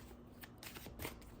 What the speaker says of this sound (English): So I do tend to riffle shuffle.